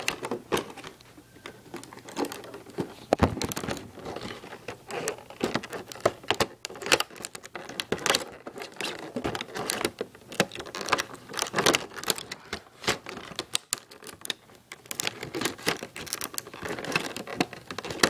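Halo 4 limited edition controller packaging being cut open with scissors, with crinkling plastic and sharp snips and taps that keep going through the whole stretch, up close and unhurried, with no talking.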